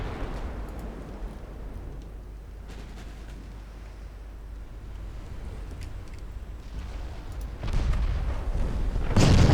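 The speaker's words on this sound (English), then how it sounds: "so I can manually target the secondary guns" Naval gunfire from warship secondary guns in the Ultimate Admiral Dreadnoughts battle game, a steady low rumble of distant booms and battle noise that swells louder near the end, with no talking.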